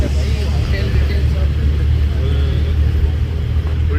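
Road traffic with a bus nearby on the way to Sangameshwar and Rajapur, a steady, loud low rumble of engines and tyres running throughout, with voices talking over it.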